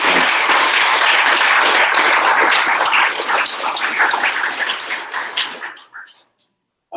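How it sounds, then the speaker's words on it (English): A room full of people at a presentation gives a strong round of applause, dense clapping that thins out toward the end and stops. "If we could please have another massive round of applause"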